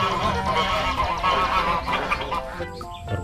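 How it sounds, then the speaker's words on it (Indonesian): A white duck gives loud, harsh honking quacks in quick succession, close by and alone, with a raspy, nasal tone throughout. "Di sini ada satu ekor bebek."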